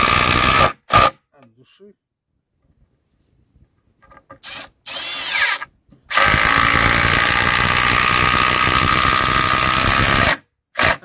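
A new Milwaukee 12-volt cordless saw runs in short bursts, then settles into a loud, steady, buzzing cut for several seconds before stopping, with a brief spoken phrase early on.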